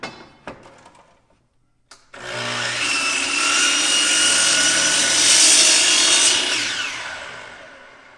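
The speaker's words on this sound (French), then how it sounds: "Je laisse ma scie s'éteindre." After a couple of knocks and a brief pause, a power saw cuts loudly through wood for several seconds, then winds down as it finishes.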